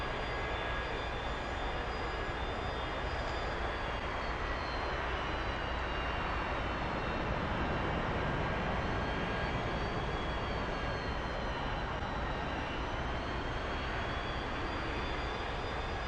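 An A-4E Skyhawk jet taxiing in the DCS World flight simulator, a steady, even roar of jet engine noise with a high whine running over it. It holds at a constant level throughout, with no voices.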